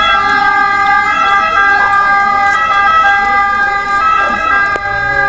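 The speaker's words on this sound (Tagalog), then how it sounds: "Ambulansya pa." An ambulance siren wails loudly and close in Rimini, Italy, its layered tones holding steady over the rumble of road traffic.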